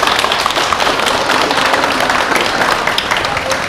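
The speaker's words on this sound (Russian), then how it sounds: "Эти аплодисменты совершенно заслуженные" Applause at a birthday jubilee celebration: steady, loud, dense clapping from a crowd that holds evenly for a few seconds with no talk over it.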